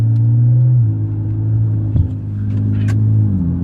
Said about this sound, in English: I am pressing my foot all the way down, and it doesn't even allow me to accelerate as fast as it did even by default